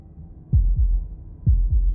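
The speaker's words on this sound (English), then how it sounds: "That was the sound of a heartbeat, followed by another" Slow, deep heartbeats in the video game Slay the Princess: two pairs of low, booming thumps with a pause between, close and loud over a quiet dark drone.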